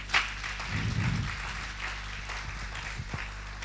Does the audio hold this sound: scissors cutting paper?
no